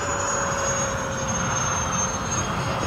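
An RC A-10 Thunderbolt model jet with twin 70mm electric ducted fans flying, a loud, steady whine and roar with a sustained high tone, continuous throughout, no talking.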